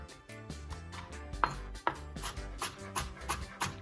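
A knife slices a vegetable thinly on a board, a quick run of crisp, close cuts in an uneven rhythm over light background hum.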